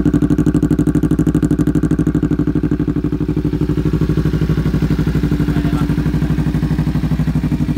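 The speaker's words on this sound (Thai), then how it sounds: "เดี๋ยวเรามาใส่แคทลดเสียงกันดีกว่านะครับ" Motorcycle engine idling and revving through an exhaust fitted with a catalytic muffler insert, a loud, steady, close-up rhythmic pulsing throb with no talk.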